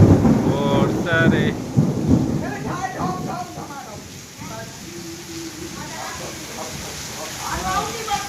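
Rain falls steadily with thunder rumbling during a monsoon downpour on an outing near a temple, a constant broadband wash of rain that carries through the whole stretch while someone talks over it.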